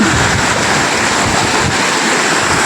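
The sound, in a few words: water gushing out in a strong stream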